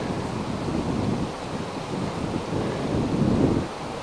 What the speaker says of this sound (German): Ist einfach viel zu windig heute zum Anfängerfliegen.